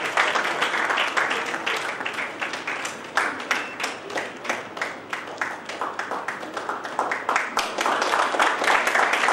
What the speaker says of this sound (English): please have a big round of applause for the winners